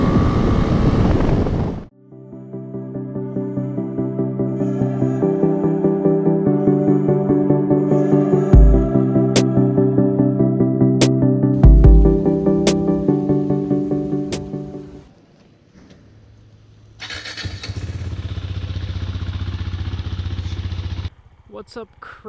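A Husqvarna Vitpilen 401 motorcycle pulling away in 4th gear, its engine note rising in steady harmonic tones up close with wind rush, then easing off before a burst of wind noise; no talk heard.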